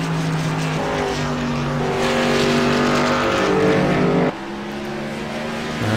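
Race cars lap a circuit, their engines droning loudly and continuously with shifting pitch as they pass, one note dropping sharply partway through.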